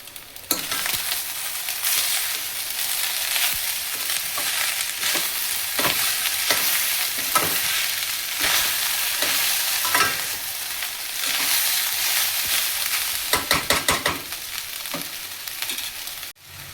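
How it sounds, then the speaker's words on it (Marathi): Cooked rice for Maharashtrian coconut narali bhat is tossed in a hot pan, giving a continuous crackling sizzle broken by repeated scraping spatula strokes that cluster faster near the end, with no voices. "आता ह्याला ना परतून घेऊया चांगलं।"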